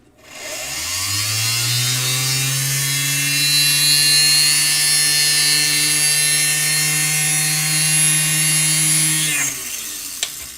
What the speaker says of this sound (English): Depending on your stone, this may take longer to drill through